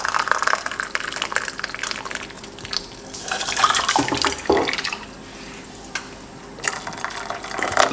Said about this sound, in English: we're going to put 1 cup of hot water.